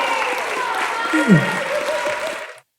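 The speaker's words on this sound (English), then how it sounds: "give her a massive round of applause" A talent show crowd at a live semi-final applauds loudly and continuously, with cheering and a brief vocal shout mid-way, before cutting off abruptly at the end.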